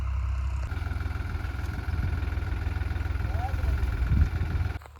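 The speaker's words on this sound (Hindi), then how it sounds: "हमारे डॉलर चने के खेत में चल रहा है प्लव" Tractor engine hauling a plough through a Dollar chickpea field, a steady low rumbling drone throughout with a faint higher whine above it, and someone speaking over it.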